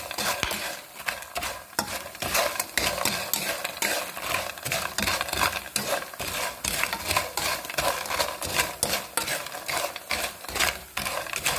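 Almonds caramelizing with sugar are stirred in a stone pan, making a continuous gritty scraping and rustling that stays close and fairly loud throughout, with no talking.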